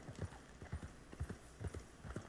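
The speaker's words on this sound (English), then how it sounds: "this is the new horse" A horse's hooves clip-clop in Red Dead Redemption 2, a steady run of soft, muffled footfalls at a walking pace, fairly faint against a low background hiss.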